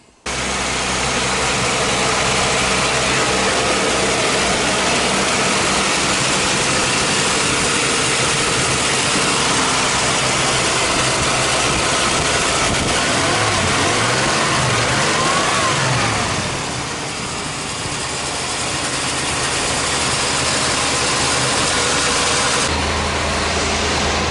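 A 1988 Chevrolet Caprice engine, run after sitting two to three months, idles close by with a rough mid-pitched rumble and rises into revs, steady and loud throughout.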